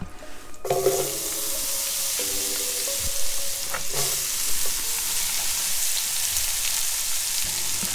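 Onions drop into a hot Dutch oven for a pork roast in dark beer sauce and start frying, with a sharp initial clatter followed by a steady, loud sizzle that continues to the end.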